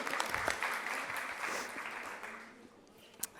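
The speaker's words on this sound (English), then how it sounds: "We can give a round of applause to that." A crowd at a Women's Equality Day community event breaks into a round of applause, dense and steady at first, then thinning out and fading toward the end, with a few louder late claps.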